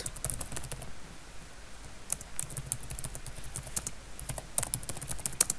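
Rapid, irregular clicking of computer keyboard keys, close and fairly quiet, with bursts of typing and short pauses and no talk.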